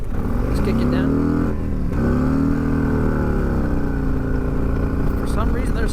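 A 2023 Harley-Davidson Street Glide Special 120th Anniversary Edition accelerates, its loud, deep V-twin rumble rising in pitch, dipping at a gear change, then climbing steadily again up close, with wind noise throughout.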